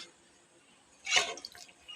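Water is sprinkled onto rice flour dough in one brief splashy patter, close and moderately loud, after a quiet lead-in.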